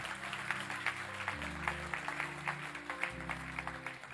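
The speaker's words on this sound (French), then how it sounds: "Oui, 3 personnes applaudissaient" A handful of people clap in a church, sparse and uneven, fairly faint over a sustained organ or keyboard chord in the background.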